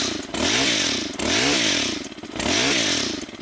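A STIHL KM 130R multi-tool's small two-stroke engine revs up hard three times in a row as the throttle is blipped, each rise and fall loud and close with a rasping buzz.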